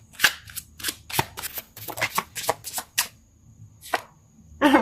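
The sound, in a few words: shuffling tarot cards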